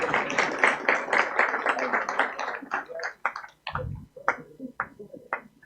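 An audience claps at an award ceremony honoring health facility teams, a dense round of applause that thins into scattered individual claps, then a few more sparse claps with faint talk.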